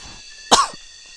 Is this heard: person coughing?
yes